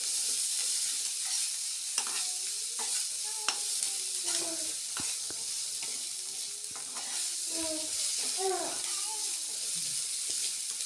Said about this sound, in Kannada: ಲೋ ಫ್ಲೇಮಲ್ಲಿ ಇಟ್ಕೊಂಡು ಫ್ರೈ ಮಾಡಬೇಕು